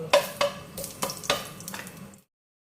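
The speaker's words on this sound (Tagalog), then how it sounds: "dito ko na rin i-gigisa ang ating beef" Beef sautés in a pan for a beef kaldereta, with several sharp stirring scrapes and clinks over a sizzling hiss, close by, before the sound cuts to silence.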